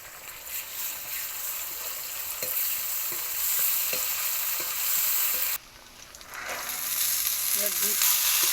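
Ginger, garlic, dried chilli, cumin and coriander powder sizzle in hot oil while being stirred for ghugni, a loud close frying hiss with scraping strokes that dips briefly and then returns.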